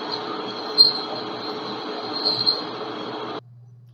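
A lathe with a reamer makes a truing pass on a Proof Research Sendero carbon fiber rifle barrel at fast RPM and slow feed, giving a steady close squealing whine with a few brief louder peaks before it stops abruptly.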